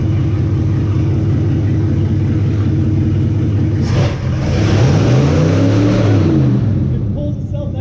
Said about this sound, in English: Does it smooth out when you rev it?